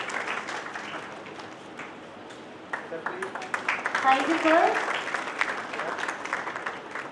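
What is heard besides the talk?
audience applause for guest at conference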